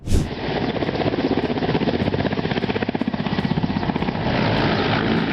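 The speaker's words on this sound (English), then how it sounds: "The helicopter tried to land" A helicopter's rotor thuds in a steady, rapid pulse over a loud engine whine, close and continuous throughout.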